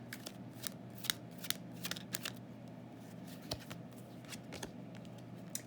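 A deck of romance angel oracle cards is shuffled by hand, giving quick, crisp riffling snaps in irregular bursts against a quiet room, close and fairly soft, with no voice.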